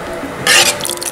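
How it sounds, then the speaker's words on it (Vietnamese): Mushrooms tipped into a pot of abalone rice porridge give a short wet splash and squelch at mid-clip, loud and close, with faint kitchen noise around it. "Rồi đây mẹ đổ nấm vô luôn."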